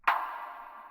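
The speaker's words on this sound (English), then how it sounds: "we've also got this transition clap here." A single transition clap at the end of a melodic techno break, a bright crack followed by a long smeared reverb tail that fades slowly, heard alone.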